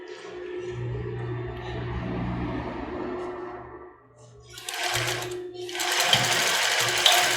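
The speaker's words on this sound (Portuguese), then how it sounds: "Então nós vamos passar aqui na máquina reta também" Straight-stitch sewing machine sewing bias binding on a cropped top, with a steady motor hum and then louder, faster bursts of stitching nearby, one short pause between runs and no speech.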